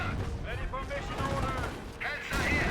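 Cannon fire from British Firefly tanks in a Company of Heroes battle, several sharp shots and booming reports heard mid-range under steady battlefield noise and a commentator's voice.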